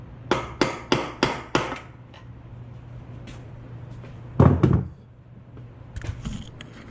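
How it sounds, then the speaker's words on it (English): Five sharp metallic hammer blows on a pry bar against a drum during a 47RE transmission repair, in quick succession, then a heavier clanking strike a few seconds later, close and loud. "stick it right there on that, hit it with a hammer, it'll pop off"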